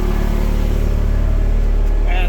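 A Toyota MR2 engine idles steadily at about 1,000 RPM, a loud, close, even low pulsing with someone talking over it.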